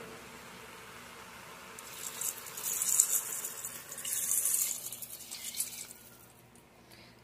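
Tap water pours into a pot of chicken soup in a home kitchen, a faint hiss that swells in two short bursts and then tapers off.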